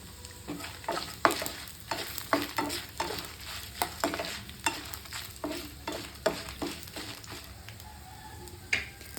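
Cumin seeds frying in oil in a pan for onion chutney, a steady soft sizzle punctuated by repeated sharp scraping clicks of a spoon stirring against the pan, close and alone.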